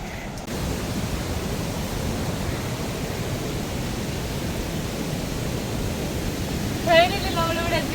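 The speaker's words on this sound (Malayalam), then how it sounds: "ഇവിടെയാണ് വെള്ളച്ചാട്ടം ഉള്ളത്. ഇവിടെ ഈ വെള്ളം കേട്ടോ വരുന്നേ" Water rushes at Ssezibwa Falls in Uganda as a dense, steady roar with no breaks, and a brief chirp stands out near the end.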